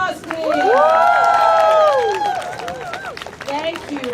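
A crowd at a Toronto march against gun violence cheers and whoops, with tonal shouts and long rising calls over a bed of clapping, loud and close, swelling early then easing off.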